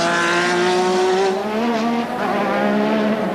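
A Lola Formula 1 car with a Ford Cosworth V6 engine races in practice at the 1986 Australian Grand Prix, its loud, close, high-pitched engine note wailing steadily with slight pitch shifts as it passes.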